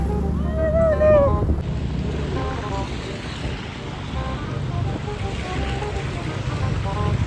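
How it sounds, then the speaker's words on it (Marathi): Sea waves surging and washing in a steady, broad roar with gusts of wind buffeting the microphone, loud and close; a few brief horn-like tones sound near the start. "समुद्र."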